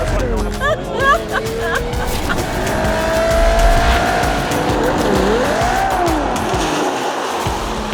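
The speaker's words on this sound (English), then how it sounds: "Giving it full beans, and now we're full. And I'm spun." A Ferrari 12Cilindri is driven at full throttle on a race track, its engine note rising and falling while tyres squeal into a spin; someone talks excitedly over the car throughout.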